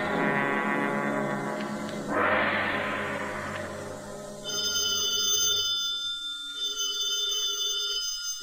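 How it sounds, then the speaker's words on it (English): In an old-time radio murder mystery, a telephone bell rings in a police inspector's office amid dramatic orchestral music, the ringing tones sounding over swelling brass and strings, with no speech. "Is that the phone, Inspector?"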